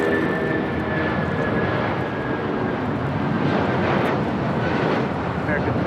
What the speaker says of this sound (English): That was United Airlines 1488 taking off to Newark on the 757-200